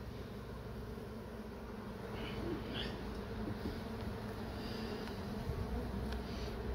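A steady, dense buzzing of many honeybees close by around open hive frames, a continuous drone with faint higher whines drifting through.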